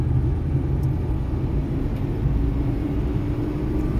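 A Maruti Suzuki Eeco 7-seater CNG van accelerates on the road, heard from inside the cabin as a steady, loud engine and road rumble that holds even throughout, with no talking.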